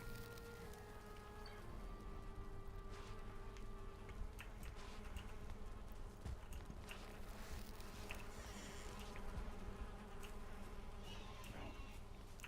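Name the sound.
bees buzzing in a video game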